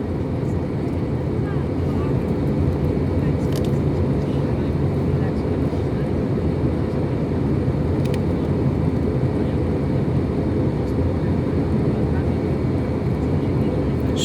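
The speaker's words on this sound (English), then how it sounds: "I can hear the engine's thrust going up and down." An airliner's jet engines drone steadily inside the cabin during descent, with the thrust swelling and easing slightly under a constant rumble, and the roar continues throughout.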